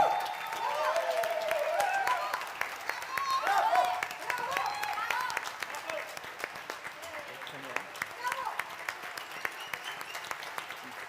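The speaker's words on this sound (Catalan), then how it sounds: "de Gaudim, un fort aplaudiment." Crowd applauding a choir at a Sant Joan night musical show in Tarragona: continuous many-handed clapping with a few cheers, while a voice speaks over it through the first half, the clapping carrying on more sparsely afterwards.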